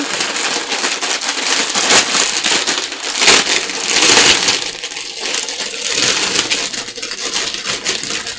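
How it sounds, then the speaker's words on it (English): Crinkly plastic packaging from an unpacked scrap-cabin order for junk journal crafting, rustled and handled up close in a steady stream of crackling, crumpling bursts without speech. "I received another order from my scrap cabin. I just haven't unpacked it yet. That's why the crinkly sound."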